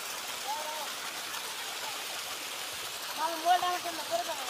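Rain falls outdoors as a steady, even hiss of drops throughout, with faint voices rising briefly near the end.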